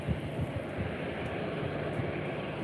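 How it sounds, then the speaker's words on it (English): An EasyJet Airbus A319 airliner arriving from London Gatwick makes a steady, broad low roar of jet engines at moderate distance, unchanging over a few seconds with no talk. "So coming up next is an EasyJet. I think it's an A319 or an A320."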